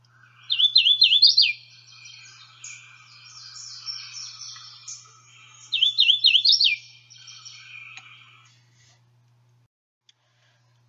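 Two bright, ringing songs of a hooded warbler, each a quick series of slurred whistled notes ending emphatically, stand out clearly, with softer chips and twitters from other birds filling the gaps.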